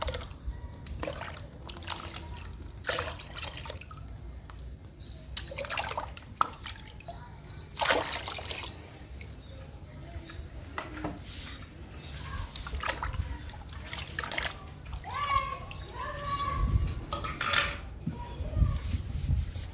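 A diluted paste of neem flowers and ridge gourd peels mixed in water is poured into a bucket, giving close splashing, trickling and dripping in uneven bursts, with occasional quiet talk.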